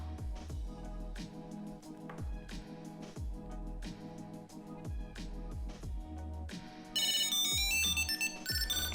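Tile Slim tracker ringing inside a wallet, a repeating electronic melodic ringtone in steady looping phrases, fairly close, turning to a brighter, busier tone near the end.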